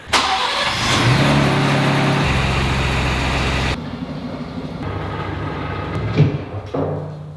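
An Audi R8 V10 Plus with a straight-pipe exhaust runs loudly and revs, then drops to a lower rumble as the car idles and shifts about nearby.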